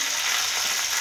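Tomatoes frying in hot oil with curry leaves give off a steady, bright, hissing sizzle, close and continuous with no talk.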